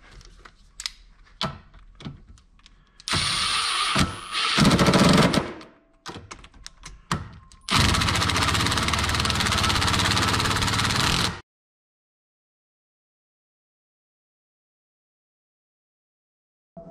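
An impact gun drives bolts on a Yamaha 2.8 L V6 outboard, 150–200 hp, during an internal anode change, giving two loud, close bursts of buzzing rattle after some light tapping and handling noises, then silence.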